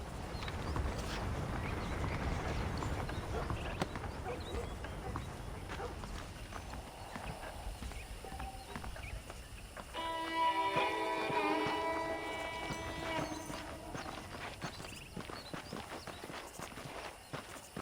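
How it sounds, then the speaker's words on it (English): Horses' hooves clip-clop at a steady walking pace through Red Dead Redemption's western game world, close and continuous, with some jingling tack and a brief musical tone midway. "let's see if you can still ride a horse"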